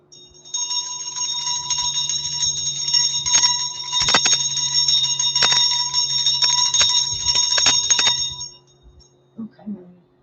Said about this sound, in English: About to ring the bell.